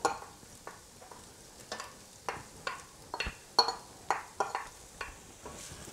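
Poblano peppers and celery cook in a pan with a soft sizzle, broken by a run of sharp scraping stirs and utensil knocks spread through the clip, with no talking.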